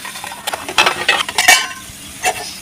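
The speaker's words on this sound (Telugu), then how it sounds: "స్టీమ్లో పెట్టేసిన తర్వాత వాటికి మూతలు వేసుకుందాం." Lids pressed onto small containers of cow's-milk pudding (junnu) after steaming, giving a run of light plastic clicks and clinks at close range, several quick taps clustered mid-way and one more near the end, with no talk.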